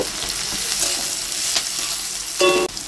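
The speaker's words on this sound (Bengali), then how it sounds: "এবারে দিচ্ছি পেঁয়াজ কুচিগুলো দিয়ে আমি ভালো করে লাল লাল করে ভেজে নেব" Chopped onions fried in oil with ground spices for a spicy chicken dish, a loud close sizzle with quick stirring scrapes and a brief clatter near the end.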